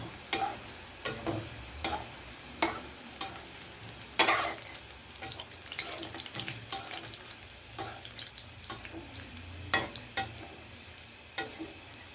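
Bitter gourd (karela) slices fry crisp in oil in a pan, giving a steady sizzle broken by regular scraping stirs every second or so, close and fairly quiet.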